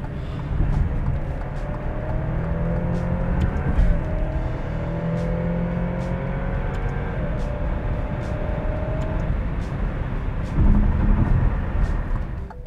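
An Alfa Romeo car cruising in dynamic mode, a steady interior engine drone with rising and falling tones as it pulls, plus road rumble, fairly loud and continuous.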